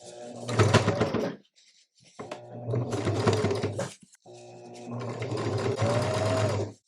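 A sewing machine stitches quilt seams through thick layers of batik fabric in three sustained bursts of close, steady motor whirring, separated by brief pauses.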